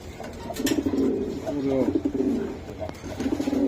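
A racing pigeon at a pigeon club sale coos repeatedly in throaty, pulsing calls close by, with background voices mixed in.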